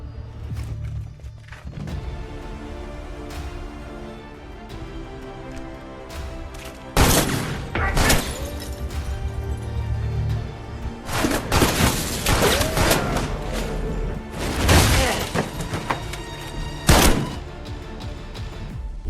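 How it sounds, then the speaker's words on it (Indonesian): Film shootout with bursts of gunfire, several loud volleys and thumping shots over a music score, growing heavier toward the end. "Baku tembak pun tak terhindarkan."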